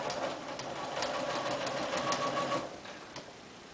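A sewing machine runs steadily stitching a seam at 5/8 inch along the side of a sleeve project, with a fast continuous mechanical whir that stops near the end and leaves a faint tail.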